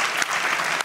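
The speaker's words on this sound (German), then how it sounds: "Gerade hat der Pförtner geklatscht." A porter at the SWR broadcaster claps in a studio, with a few sharp hand claps over a dense, brief burst of applause-like clatter.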